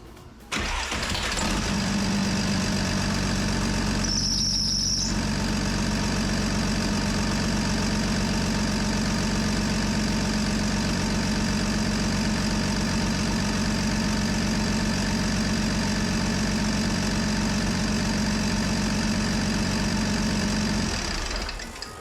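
An engine cranks and fires up, then holds a steady, loud idle close by for around twenty seconds, with a brief high whine partway through.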